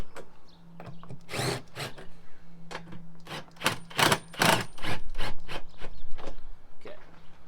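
Nuts with washers are snugged onto a Jeep Wrangler double battery mount, heard as a series of sharp ratcheting or clicking bursts in quick irregular clusters, close and fairly clear over a quiet background.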